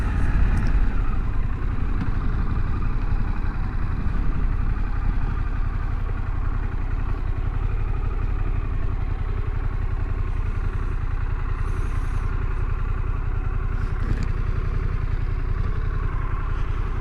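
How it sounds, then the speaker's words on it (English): A motorcycle engine runs at a steady idle after starting, a constant low rumble with light mechanical clatter that holds evenly throughout with no talking. "thankfully the bike started."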